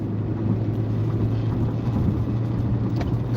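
A car's engine drones steadily as it accelerates toward 4,000 RPM to merge onto I-94 at night, with a low constant hum and road and wind rush filling the cabin, close and continuous, with no talking.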